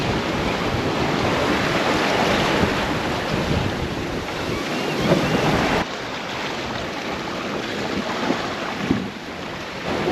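Steady roar of ocean waves and about 20 knots of wind buffeting a sailboat reefed with three reefs and a small genoa on a solo passage from Panama toward the Marquesas, with constant loud broadband rush and wind noise throughout.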